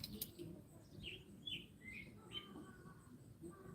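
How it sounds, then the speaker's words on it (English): Several short, high bird chirps and tweets ring out outdoors at a modest distance, scattered irregularly over a low, steady background rumble. "Can you guys actually hear the birds?"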